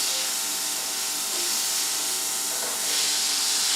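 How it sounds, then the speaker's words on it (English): Vegetables for stuffed peppers go into a hot pan, giving an even, close steam hiss and sizzle that grows a little louder toward the end. "So now we put the vegetables in."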